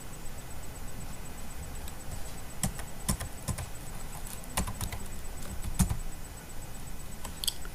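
Someone types on a computer keyboard while writing Node.js code, making a run of separate, sharp key clicks in uneven bursts over a quiet room hiss. No one speaks.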